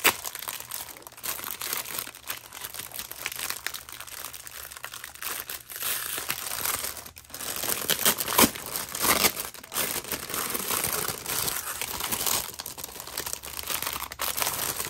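A crinkly plastic mail package is unwrapped close up, with continuous loud crinkling and crumpling throughout and occasional sharper tearing rustles.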